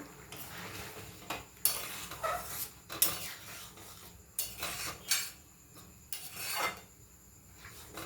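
A spoon scrapes and clatters against a pan while egg tadka is stirred, the irregular metallic strokes close and sharp over a faint frying hiss.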